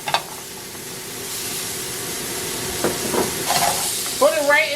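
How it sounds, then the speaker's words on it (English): Sliced onion caramelizing in a pan gives a soft continuous sizzle and hiss close by, broken by a few stirring clicks and scrapes toward the end. "1 onion sliced. Gotta caramelize that onion."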